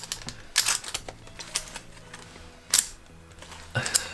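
Aluminium Ringwraith cosplay gauntlets clink and rattle in scattered bursts of sharp, bright metallic taps as the fingers move, close and fairly quiet, with no voices.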